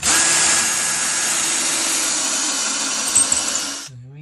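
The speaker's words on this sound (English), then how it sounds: "The only thing left to do is to drill some holes" A power drill bores holes into a home wall for mounting LEDs, whirring loud and steady for close to four seconds before cutting off abruptly.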